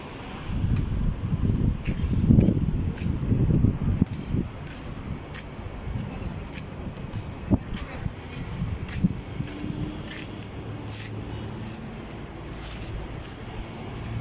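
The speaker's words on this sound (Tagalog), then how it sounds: "sa lakas ng hangin" Strong wind gusts through the open Al Khoud souk in Muscat, Oman, ahead of approaching rain, rumbling and buffeting the microphone loudly at first, then settling into a steadier roar with scattered rattles and knocks.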